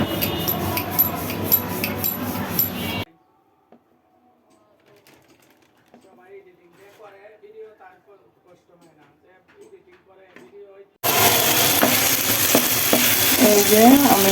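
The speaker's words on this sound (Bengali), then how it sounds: "সবজি দিয়ে একটা ডিম ভেজে নিচ্ছি।" An egg fries in a pan with cabbage, tomato and spring onion, sizzling loudly and close at the start and again at the end, with a much quieter stretch of talking in between.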